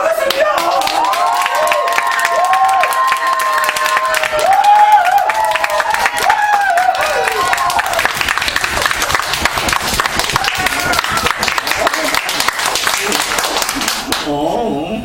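A theater audience at a play's opening claps together, steady dense applause building and continuing loudly to the end, with a performer's voice over it early on.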